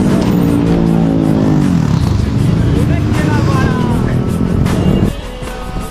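A superbike revving loudly during a wheelie stunt, the engine note rising and falling close by over a crowd of shouting voices, then cutting back abruptly near the end.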